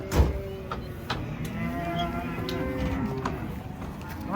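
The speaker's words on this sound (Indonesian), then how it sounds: "Oh, sapi ini sapi Cil." A large cow just unloaded from a truck moos with a drawn-out, wavering low call, close by, over a busy farmyard background with a few clattering knocks.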